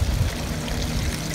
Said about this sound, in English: And now we're just into filling up the bigger pond.